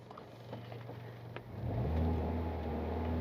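Close-up car engine in neutral with a vibration fault: a low, uneven idle rumble, then a single rev that lifts it to a louder, higher sustained drone that holds until the end.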